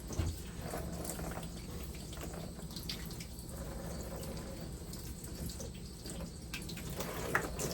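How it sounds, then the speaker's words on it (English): Water pours over a newly potted houseplant to rinse soil off its leaves, a steady close splashing trickle with faint drips throughout. "Now, I'm going to water this, but mostly just to get the soil off of the leaves."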